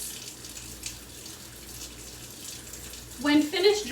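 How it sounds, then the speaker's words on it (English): Steady running water pours from a faucet for hand washing, a continuous close hiss with a brief splash change near the end, no voices. "Use running water because stagnant water has contaminants."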